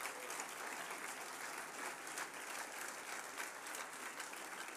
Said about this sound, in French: Je vous demande d'applaudir Serge Lévy.